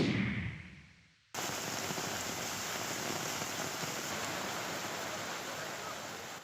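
Heavy rain pours down during Monday evening flooding in Jakarta, a dense, even hiss that cuts in abruptly after a fading murmur and continues unbroken, with no talk.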